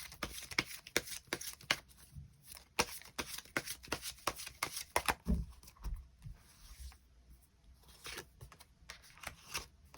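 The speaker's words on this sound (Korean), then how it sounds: "추가 카드 뽑아보도록 하겠습니다" Tarot cards being shuffled by hand, a steady run of crisp riffling flicks and snaps, close and alone with no talking.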